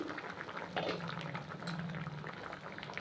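Grapes simmer in a covered pot of water, giving a soft, continuous bubbling hiss with faint gurgles throughout, quiet and close.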